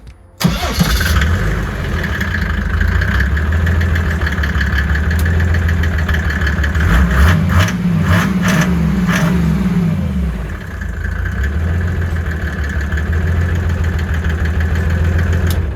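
A Datsun with a diesel OM606 engine swap, fitted with a billet turbo manifold, starts up and runs. A loud, close mechanical rumble holds steady, with a rev burst in the middle before it settles back to a rough idle.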